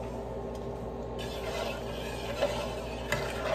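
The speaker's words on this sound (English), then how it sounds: "We're going to just mix it." Shredded cheese is stirred into a pot of homemade mac and cheese, making soft scraping and squishing sounds over a steady kitchen background hiss. A couple of louder scrapes stand out near the end, and no one talks.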